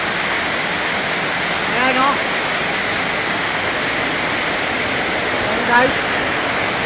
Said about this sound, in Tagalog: Napakalakas ng buhos ng ulan ngayon.